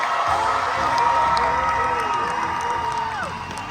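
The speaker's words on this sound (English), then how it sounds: "Can we get one more big round of applause" Convention panel audience cheering and applauding for Malcolm and Rachel, a dense, loud crowd roar with whoops and shouts sustained throughout, easing slightly at the end.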